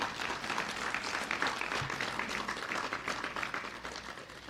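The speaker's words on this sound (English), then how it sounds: "I ask that we please give them all a round of applause." An audience at a 2017 national debate in Belize City applauds, a soft, steady patter of many hands clapping that stays even and fairly distant for the whole stretch.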